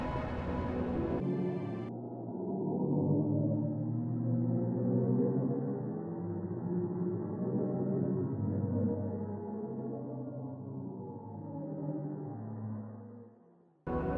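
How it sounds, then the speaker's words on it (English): Sonification of pressure waves from the Perseus cluster's supermassive black hole, scaled up 57 octaves: a continuous, loud, deep droning hum with shifting low tones, holding steady for most of its length before fading and cutting off at the end. "What you're hearing is the hum of a supermassive black hole."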